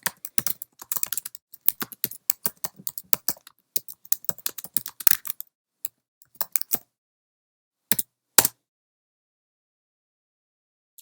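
Keys clatter on a computer keyboard in quick bursts of typing, close and crisp, with pauses between words and a few isolated keystrokes after a longer gap.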